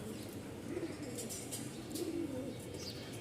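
Rajshahi Giribaz pigeons, including a pure white crested pair with feathered feet, coo faintly against a steady background hiss, two soft bursts of cooing standing out in the middle and near the end.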